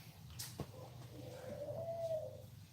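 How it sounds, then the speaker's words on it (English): A dove coos near a seaside wedding reception, one soft, low, drawn-out call heard at a distance over quiet background rumble. "There's some doves over there."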